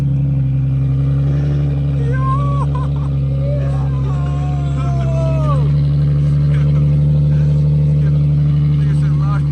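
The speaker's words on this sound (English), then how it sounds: "I'm going to turn it on right now without the exhaust, just to hear it" An Infiniti G37 engine idles with no exhaust installed, a loud, steady, raw drone that fills the whole clip, with people's voices faintly audible underneath.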